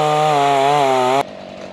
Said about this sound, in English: new chainsaw, we're breaking it in